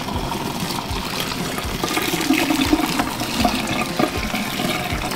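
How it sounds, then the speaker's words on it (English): Boiling water poured over fresh spinach in a colander, a steady splashing, trickling stream close by with no talking, running continuously for several seconds. "let's wilt that with some boiling water"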